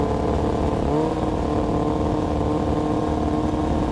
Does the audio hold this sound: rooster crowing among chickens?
no